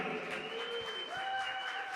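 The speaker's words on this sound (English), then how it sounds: "Give her a round of applause, everybody." Audience applause at a songwriter night at the A-Town Center, a steady short wash of clapping with faint sustained tones from the venue running through it.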